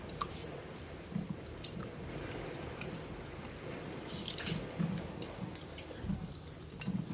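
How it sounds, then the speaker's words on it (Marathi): Dried salted kingfish being washed by hand in water, soft splashing, dripping and squishing sounds at close range, quiet and steady with occasional sharper sloshes. "पहिले धुवूया मस्तपैकी स्वच्छ पाण्यात."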